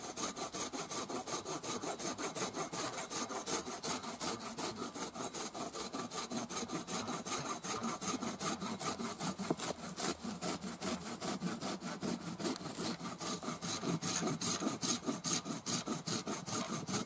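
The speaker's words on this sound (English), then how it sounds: "First cut is to make a batten." Hand saw cutting through wood to make a batten at a forest campsite, a fast, steady rasping stroke rhythm that continues without a break, close and fairly quiet.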